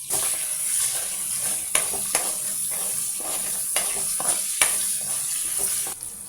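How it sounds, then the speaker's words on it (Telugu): Tempering seeds, chana dal and cumin fry in hot oil for tamarind pulihora, giving a steady close sizzle broken by brief scrapes and clicks of stirring throughout. "ఆయిల్ వేడెక్కాక తాలింపు గింజలు వేసి కొంచెం పచ్చెనపప్పు, జీలకర్ర వేసి ఆయిల్లో ఫ్రై చేయాలి."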